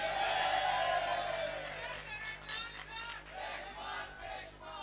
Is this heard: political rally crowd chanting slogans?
yes